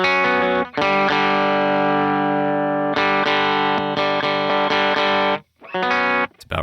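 An electric guitar played through a Benson Preamp pedal with the drive turned down gives loud, sustained, lightly overdriven chords with a few brief pauses and restrikes, with no talking.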